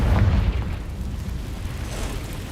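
Confringo fire spell explosion in the video game Hogwarts Legacy, a heavy boom at the start that trails off into a rumbling decay.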